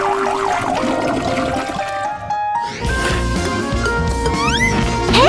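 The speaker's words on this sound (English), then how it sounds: "Especially not by flushing it down the toilet!" A toilet flush gurgles and drains amid swirling, bubbly water sounds with warbling tones layered over it, loud and close throughout the short burst.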